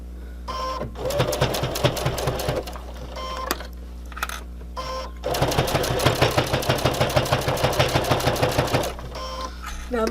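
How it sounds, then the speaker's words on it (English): A sewing machine stitching fabric for a mask with a filter pocket, running in two long bursts of rapid, even mechanical chatter separated by short pauses, close and clear over a steady low hum, with brief quiet talking between runs. "And I'm going to start my sewing."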